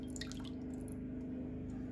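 Water poured into a pan as the first ingredient of a teriyaki sauce, a steady liquid trickle and drip running continuously and close by, with no talking.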